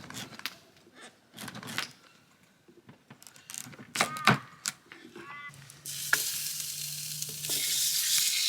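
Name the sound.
pumpkin sizzling on campfire hot plate in sausage oil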